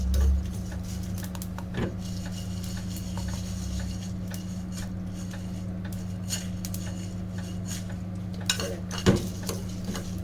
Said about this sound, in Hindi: तो यहाँ ये मेरा मसाला ड्राई रोस्ट हो रहा है भुने चिकन के लिए